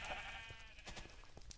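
A sheep bleats on a Minecraft farm in the video game, one short, quiet wavering call near the start, then soft clicks and game noise.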